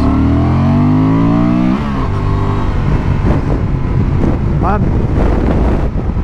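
A Honda XL750 Transalp motorcycle accelerates hard, with the engine pitch climbing through a gear, then dropping to a rough, loud drone under heavy wind buffeting, heard close from the rider's position.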